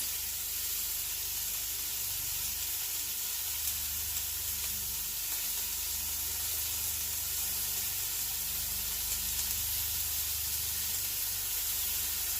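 Scallops and fish searing in a hot pan make a steady, close sizzle that holds evenly for the whole stretch, with no voices over it.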